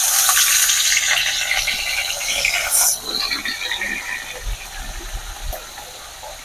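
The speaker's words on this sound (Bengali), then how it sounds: "কড়াইয়ের মধ্যে মাছগুলো ফেলে দেবো" Fish coated in spices sizzle in hot oil in a wok, a moderate hissing crackle that is strongest at the start and gradually settles, with a few soft clinks and bumps along the way.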